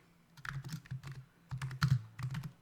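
Bursts of quick clicking keystrokes on a computer keyboard while entering web code, close and clear, with short pauses between runs of typing and no talk.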